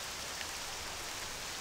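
Steady rain falling in Octopath Traveler II, a continuous soft hiss of drops at an even level with no talk, filling the scene as ambient weather.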